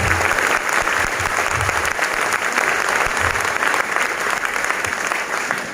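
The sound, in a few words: audience clapping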